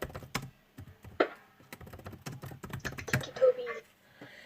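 Clicky computer keyboard typing in a close, fast, uneven run of sharp key clicks, with a little speech-like sound mixed in.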